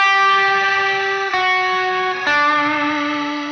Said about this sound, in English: So the reverb sound is pitched up a fifth, two combined.